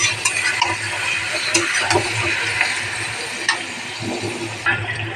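Marinated meat frying with onions in a wok, a steady dense sizzle with intermittent scrapes and clinks of stirring, close and fairly loud throughout.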